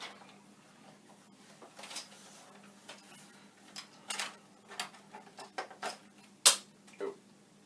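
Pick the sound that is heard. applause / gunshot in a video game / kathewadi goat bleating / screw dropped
screw dropped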